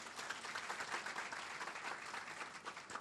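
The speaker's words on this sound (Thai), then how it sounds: "ปรบมือคุณหมออีกครั้งหนึ่งครับ" A crowd applauds with dense, steady clapping that holds at an even level throughout, heard from a short distance.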